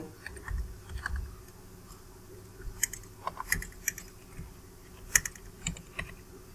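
Computer keyboard keys tapped while typing a date into an MS Word document, a steady run of light, close clicks with a few sharper strokes, heard alone without speech.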